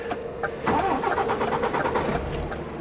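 An HGV walking floor truck's diesel engine cranks and catches, settling into a loud, steady close rumble.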